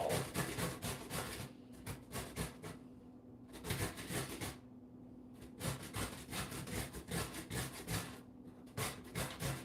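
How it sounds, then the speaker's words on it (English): A box grater shreds a carrot in rapid back-and-forth strokes, loud close rasping bursts in a rhythmic series broken by brief pauses between runs. "I use this box grater more often than I would care to admit."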